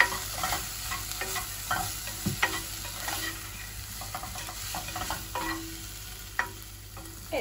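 Chicken pasta being stirred in a pan after black pepper and salt are added, giving soft continuous sizzling with scattered scraping and clinking of the utensil against the pan, close and steady.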